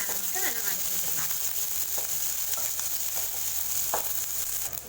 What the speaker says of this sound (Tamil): வெங்காயத்தை நல்லா கோல்டன் ப்ரௌன் கலர் வர அளவுக்கு நல்லா வதக்கி வச்சுக்கலாம்